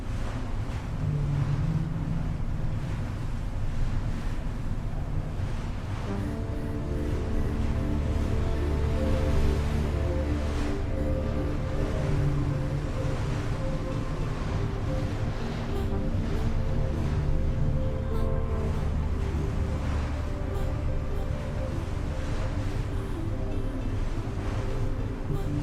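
Boat engines drone steadily at sea in the video game The Last Caretaker, a continuous low rumble with wind and water noise over about twenty-five seconds.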